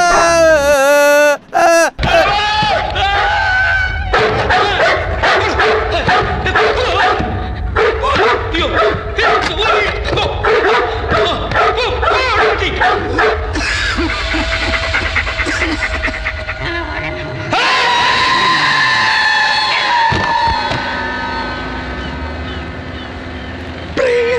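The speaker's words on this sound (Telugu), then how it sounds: "ఇక్కడ కుక్క వచ్చిందే" A dog in an action movie scene barks and whimpers in short, repeated bursts, loud and close, mixed with voices and scene sounds.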